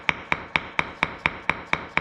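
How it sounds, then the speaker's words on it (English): A ball peen hammer taps repeatedly on brittle epoxy in a concrete control joint, nine crisp evenly spaced strikes at a quick steady pace, close up with no voices. "just tapping away at it and flip it over and use the ball side"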